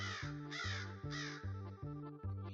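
A crow caws in a loud, harsh series of about six calls at a steady rhythm, close and clear with no talk.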